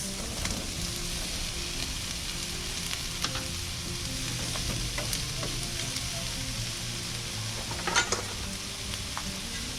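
Vegan pasta ingredients with turmeric frying in a pan, a steady soft sizzle with occasional stirring scrapes and utensil clinks, one sharper clatter near the end.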